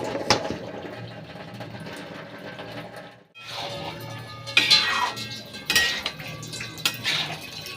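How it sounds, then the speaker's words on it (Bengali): Dishes and utensils being scrubbed and rinsed in a home kitchen, with clinking pots, clattering cutlery and running water in irregular bursts, a brief pause midway, then louder metallic knocks. "আবার এই বাসন মাজলাম, আবার বাসন, এগুলো আবার মাজতে হবে"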